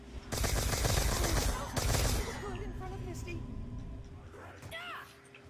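Loud, dense automatic gunfire in Call of Duty Black Ops 2 Zombies on the Buried map. Two sustained bursts up close, then fading game noise with a voice near the end.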